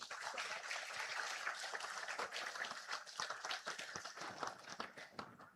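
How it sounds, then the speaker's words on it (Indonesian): Applause at a presidential visit and speech at BRIN, a dense crowd clapping steadily for several seconds, somewhat distant and tapering slightly toward the end. "Siapa yang tepuk tangan ini?"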